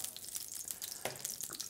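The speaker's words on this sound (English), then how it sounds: "So I've got a hot frying pan on high heat." Oil sizzles in a hot frying pan on high heat, a continuous hissing crackle with a few sharper spits, close and fairly quiet, with no talking.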